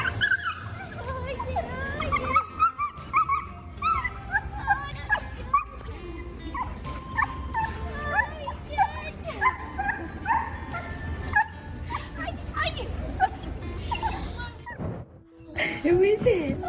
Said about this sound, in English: Here is the amazing reaction of a dog who hasn't seen its owner for 6 months.